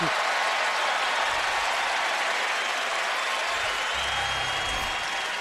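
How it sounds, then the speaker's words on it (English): A tennis crowd at the US Open in a 2010 semifinal between Djokovic and Federer applauds steadily, a dense, sustained clapping wash from a large stadium audience, with a commentator's voice briefly underneath. "And even the crowd now giving Djokovic his due."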